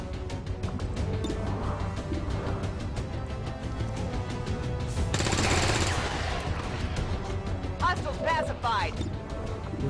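XCOM 2: War of the Chosen combat with rapid automatic weapons fire in repeated bursts and sharp gunshots, loud and close, mixed with game effects and voice lines.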